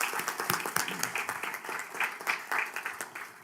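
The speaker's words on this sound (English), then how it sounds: "So a big applaud for all our young ladies" Applause at a city council meeting for young female athletes being recognized, a steady patter of hand claps from a moderate crowd, sounding somewhat thin and mid-distance, with no talking over it.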